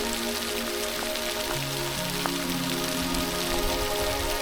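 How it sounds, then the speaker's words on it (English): Steady patter of sleet ice pellets hitting surfaces, a dense continuous ticking hiss with a faint low hum running underneath. "Sleet. This is frozen raindrops, tiny ice pellets that bounce off surfaces."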